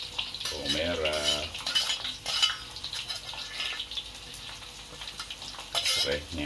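Garlic, chili and shallots fry in a pan and are stirred, with a continuous sizzle broken by frequent close metallic scrapes and clinks of the utensil against the pan, and a brief voice at the start.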